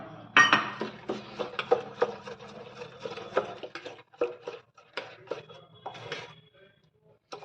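Spoon clinking against a bowl while sugar is mixed into milk, irregular light metallic taps and scrapes, close and fairly crisp, with a soft low hum beneath.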